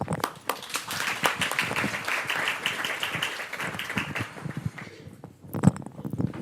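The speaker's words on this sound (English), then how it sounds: "Round of applause, please." Audience applause for a speaker at a tech conference in Vienna, a moderate round of clapping that thins out after a few seconds into scattered claps and a few thuds.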